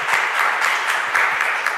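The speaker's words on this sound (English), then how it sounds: "a round of applause for our esteemed folks here" An audience applauds a panel at a film and AI discussion event, with steady, dense clapping that sustains throughout at moderate volume and no talking over it.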